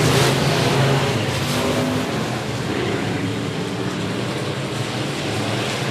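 Race cars at 105 Speedway in a three-way battle for the lead, their engines a loud, sustained roar that sweeps past and settles into a steady drone of several cars circling the track.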